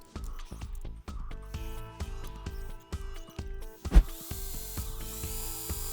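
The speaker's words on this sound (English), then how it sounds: "I drilled a hole for the bridge's grounding wire" A hole for a bass guitar bridge grounding wire is drilled in a workshop, with a loud, close whir in rhythmic ratcheting bursts, stopping and starting over and over, plus one sharp knock near the end.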